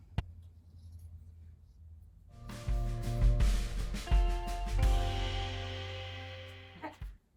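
Scissors slice through a white fabric piece for a hand-sewn mini holiday stocking, a faint rustle building into a louder, sustained crunching snip and swish near the mic, fading off at the end.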